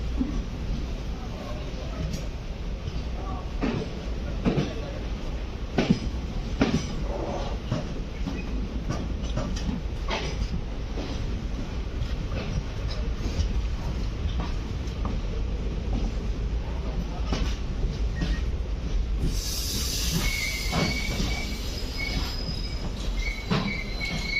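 The 12695 Chennai Central–Kottayam express train rumbles along the rails after leaving Ernakulam Town, with rhythmic clicking of wheels over joints, a steady close rolling noise, and a high squeal near the end.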